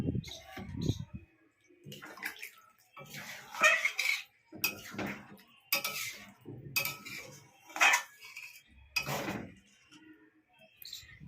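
Metal pots and a lid clatter and clink in a kitchen while jackfruit curry is being cooked, a series of sharp, close knocks and scrapes in irregular bursts, with a little quiet speech between them.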